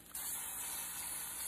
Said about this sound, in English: Spray the other side because we're going to flip it.